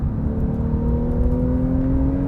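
2017 Porsche 911 Carrera GTS driven on the Killarney racetrack in South Africa, its engine holding a steady, rising whine and growl from inside the cabin, loud and continuous.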